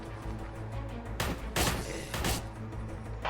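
Grease gun firing in Forgive Me Father, bursts of rapid gunfire that punch through a dense, rumbling game soundtrack, about three distinct volleys in quick succession.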